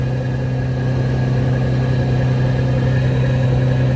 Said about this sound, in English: Y'all hear that truck over there? Listen how loud that truck is.